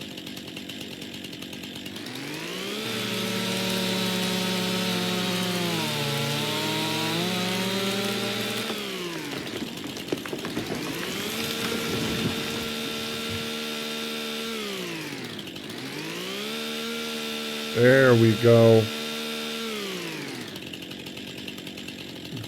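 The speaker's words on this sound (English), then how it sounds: "Put our chainsaw away." Chainsaw in Farming Simulator 25 cutting through wood in three long revving passes, its pitch dipping under load and rising again, with a short burst of a different tool noise near the end and brief talk.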